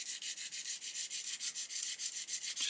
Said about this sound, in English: with a sanding stick.